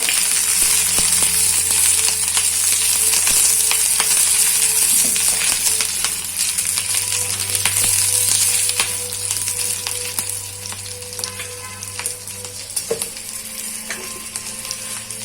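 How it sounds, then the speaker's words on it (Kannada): Two lengthwise-slit green chillies hit a hot tempering in a clay pot, setting off a loud, close, continuous sizzle with scattered sharp crackles that eases slightly toward the end. "ಈಗ 2 ಹಸಿಮೆಣಸಿನಕಾಯಿ ತಗೊಂಡಿದ್ದೇನೆ. ಅದನ್ನು ಉದ್ದಕ್ಕೆ ಹೆಚ್ಚಿಟ್ಟಿದ್ದೇನೆ. ಅದನ್ನು ಸಹ ಹಾಕ್ತಾ ಇದ್ದೇನೆ."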